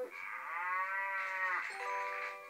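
A toy plays a drawn-out electronic cow moo, tonal and steady, repeating in two long phrases with no talking.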